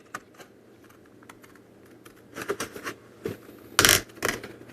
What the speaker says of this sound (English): I do cut with big scissors as well.